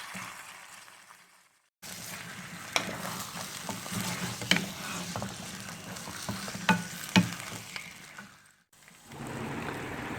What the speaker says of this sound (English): Then we will fry for 3 to 4 minutes.